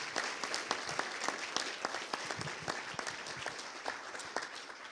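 An audience at a citizens' assembly applauds, a dense burst of many hands clapping at once that holds steady and loud for the whole stretch before easing slightly.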